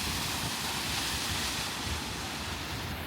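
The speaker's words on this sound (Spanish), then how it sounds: "Pero esta es la cascada." The waterfall at Mossy Cave, Utah, pours in a steady, even roar of rushing water that fills the whole stretch without pause, close and fairly loud, with no voices.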